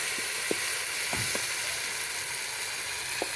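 Onions and tomatoes fry in a pan over a village cooking fire in Kenya, a steady close sizzle with a few soft stirring knocks and no talk.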